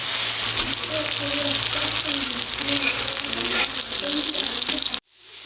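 Mackerel and tomato fry in oil on a tawa with a dense, loud, continuous sizzle and a few faint scraping stirs. The sizzle cuts out abruptly near the end.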